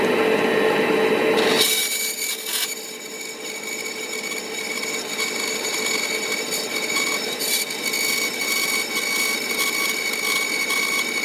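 Metal pieces for a trailer winch mount are cut with a tool, a continuous rasping, grinding cut that drops in level after the first couple of seconds and then carries on steadily, close by.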